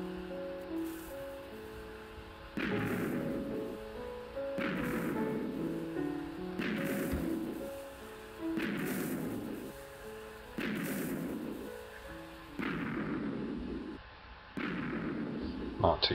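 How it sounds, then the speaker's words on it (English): Blocky TNT cannon explosions in a video game go off one after another at a steady pace of about one every two seconds, each a muffled boom with a rumbling tail. "got a rapid fire TNT cannon for you"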